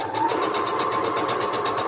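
A sewing machine stitches the last seam of a quilt block with a fast, even, close mechanical chatter of rapid needle strokes, running steadily and loudly for the brief moment.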